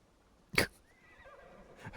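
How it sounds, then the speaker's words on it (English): A horse in the Assassin's Creed game set in feudal Japan gives one loud, sharp whinny that quickly fades, followed by quieter ambient game sounds. "Forgot my horse was over there"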